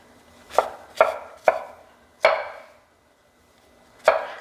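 Knife chopping fibrous white button mushroom stems on a cutting board: five crisp, close thuds in an uneven rhythm, with a pause before the last.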